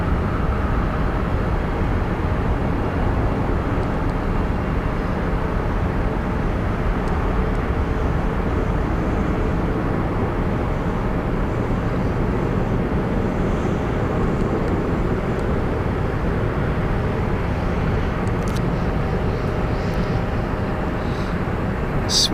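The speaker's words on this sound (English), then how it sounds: "Not sure, Stuart, the reason for the go around. I think it must have just been an unstable approach for the pilot." A jet airliner performing a go-around at London Heathrow Airport, a steady broad engine roar that stays loud and continuous throughout with no talk over it.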